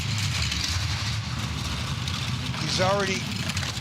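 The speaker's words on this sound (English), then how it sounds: "Sled sounds very rattly." A two-man bobsleigh sled rattles loudly down the ice track on an Innsbruck World Cup run, a steady rumbling roar throughout with commentary voices over it.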